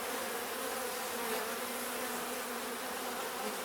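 Honey bees, including drones, swarm over a brood frame lifted from a split hive, making a steady close-up buzz that holds level throughout without a break.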